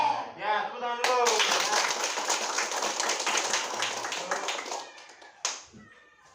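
Children in a classroom break into a burst of rapid, bright hand clapping lasting several seconds, close and lively, after a teacher's speaking voice and before talking resumes at the end.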